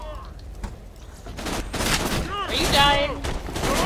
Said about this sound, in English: With a shotgun at point-blank range.